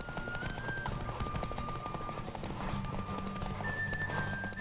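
A borrowed horse without its usual saddle gallops in the video game The Witcher 3, a steady, fast clatter of hooves that runs throughout under constant wind and a held musical tone.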